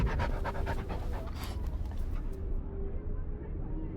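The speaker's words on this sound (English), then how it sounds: "I can pet the dog." A dog panting in the noir detective game Hauma, a steady rapid huffing close by over a constant low hum of game ambience, with faint background sound throughout.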